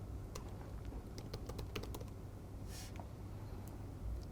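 Keys clatter on a computer keyboard as a password is entered, a short burst of scattered close taps over a steady low room hum, with a brief soft rustle partway through.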